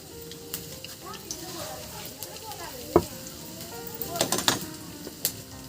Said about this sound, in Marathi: तर तेल तापले, फोडणी देऊन घेऊ.